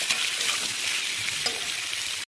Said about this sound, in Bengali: পেঁয়াজটা খানিকক্ষণ নাড়াচাড়া করে ভাজতে হবে।